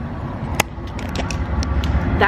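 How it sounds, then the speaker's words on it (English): Low rumbling, clanking mechanical noise with creaks and metallic ticks, steady throughout, from a train rolling past at moderate distance near a train yard. "That's a train."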